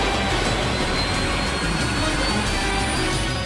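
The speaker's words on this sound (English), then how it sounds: "Rogers, start up the engine and let's give her a 60-second countdown to takeoff." Spacecraft engine starting up in the Zone of Enders video game, a loud, steady jet-like roar that holds at full strength without a break.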